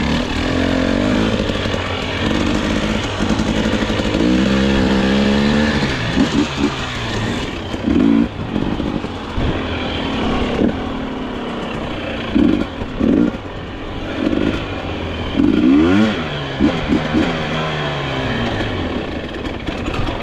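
A KTM dirt bike engine revs hard on a hard enduro track at Kinglake, Victoria, rising and falling in repeated throttle bursts between rougher idling stretches, loud and close throughout.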